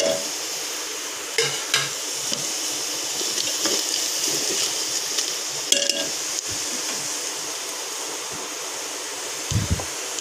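Spices going into browned onions in a frying pan for a khichuri side dish, giving a steady low sizzle with occasional stirring scrapes and clinks, close by and without speech.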